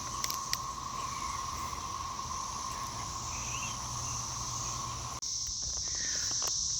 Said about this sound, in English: I don't know if you guys can hear the cicadas, that noise.